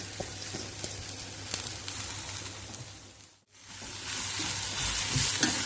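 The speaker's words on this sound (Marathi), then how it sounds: "आता ही भाजी शिजायला घालायची" Flat beans (val papdi) frying and sizzling in a pan with onion, a steady crackling hiss with stirring scrapes, briefly dropping out midway before returning louder; no talking.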